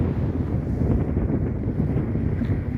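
Strong wind buffets the microphone at a calm sea beach, making a steady, loud, low rumbling roar that continues without a break.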